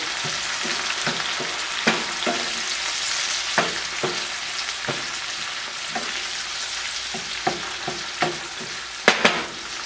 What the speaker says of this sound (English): We're just going to cook these till they blister and burst up a little bit.